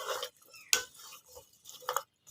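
Meethi tangri is stirred in sugar syrup in a pot on a low flame, with a spoon clinking and scraping against the metal in a few sharp, close taps and rattles amid soft stirring.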